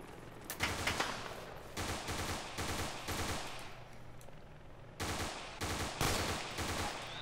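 Bursts of rifle fire from the video game ArmA 2 ring out in the field, rapid clusters of loud cracks separated by brief pauses, repeating across the clip.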